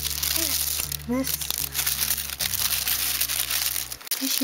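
Tissue paper crinkles and rustles in steady close handling while being tucked into a scrapbook, with the continuous crackle running under faint speech and a brief pause near the end.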